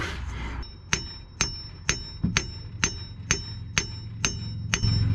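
Sharp metal-on-metal hammer strikes drive a key into a zero-turn mower's clutch shaft in a steady rhythm, about ten blows with ringing decay, close and loud over a low background hum.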